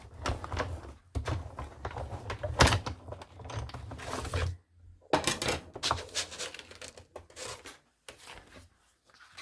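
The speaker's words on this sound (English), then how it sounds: "My die cutting machine, just like that. And run it through my machine, because that's where I want my fold to be." A die cutting machine runs a folded card through for a sunflower card, giving a steady mechanical grinding and rolling sound in close, loud bursts with a short pause midway and no talking.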